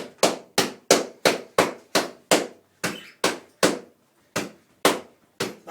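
Iron palm training: open palm strikes land on a sand bag in a steady series of about fourteen heavy, close thuds, each with a short dull decay, with one brief pause near the middle.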